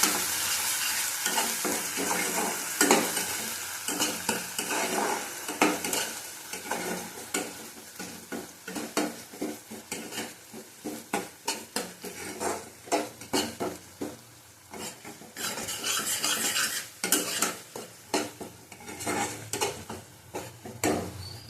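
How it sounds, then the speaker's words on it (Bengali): Rohu fish curry with yogurt and tomato is stirred and sautéed in a pan, producing continuous sizzling and frying with frequent scraping and clinking of a spoon against the pan, loud and close, without speech. "কষিয়ে নেবো ভালো করে।"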